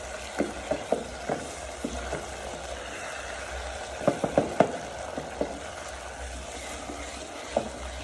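Beef sizzles and fries in a pot with tomato paste for Kenyan pilau, a steady crackling hiss punctuated by sharp scrapes and taps of a stirring spoon against the pot.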